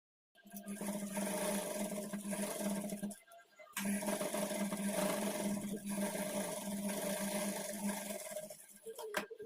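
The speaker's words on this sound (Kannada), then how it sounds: "ಈ ಥರ ಸ್ಟಿಚ್ ಮಾಡಿಕೊಂಡು ಇದ್ರ ಮೇಲೆ ಇನ್ನೊಂದು ನಾವು ಟಾಪ್ ಸ್ಟಿಚ್ ಹಾಕಿ" A sewing machine top-stitches the border of a child's peplum blouse, whirring steadily in two long runs separated by a brief pause, close and continuous, with no speech.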